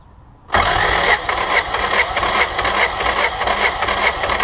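Car engine cranking on the starter during a compression test on cylinder 4, a loud steady rhythmic churning that begins abruptly after a brief quiet moment and continues evenly to the end.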